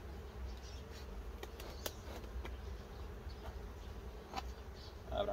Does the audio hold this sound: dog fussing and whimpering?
no